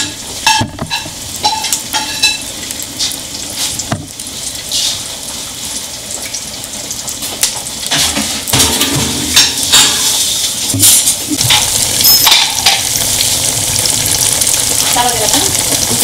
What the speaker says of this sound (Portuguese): Agora a gente está fritando o alho aqui